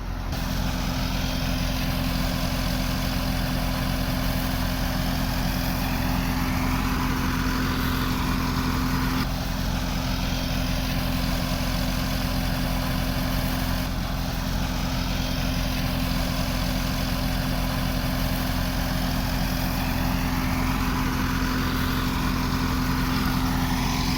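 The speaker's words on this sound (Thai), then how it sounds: "ตัวนี้ใช้ปั๊มขนาด 3 สูบนะครับ" An engine-driven 3-cylinder diaphragm pump runs on a 600-litre crop sprayer tank with a 12-metre boom and 25 brass nozzles, a loud, steady, unbroken mechanical drone throughout, with no voices.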